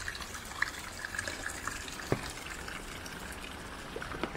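Small waterfalls and a river rush steadily through a rainy forest valley in Lebanon, a continuous broadband wash of flowing water with a few faint drips and splashes standing out.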